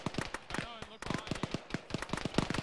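Rapid bursts of gunfire in the military shooter Arma during a ShackTac squad session, a dense crackling run of close and distant shots with a voice speaking briefly over it.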